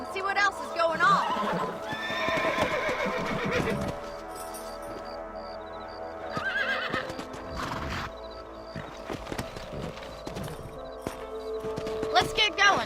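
Horses in the Red Dead Redemption video game whinny and neigh over game music, with hoof clip-clops and scattered clatter; a voice speaks at moments throughout.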